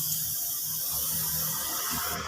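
Spray gun applying candy red paint to a car body at a roadside, a continuous close airy hiss held steadily throughout, with no talking.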